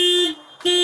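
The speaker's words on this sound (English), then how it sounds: "Turn the alarm off." Car alarm blaring a steady electronic tone, loud and close, cutting out briefly before resuming.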